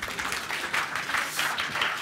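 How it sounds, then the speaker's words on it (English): Conference audience applauding panelists as they take the stage, a steady wash of many hands clapping at fairly close range for about two seconds, with no talk over it. "Give them a round of applause."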